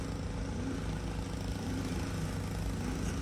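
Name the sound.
car engine being revved at auto auction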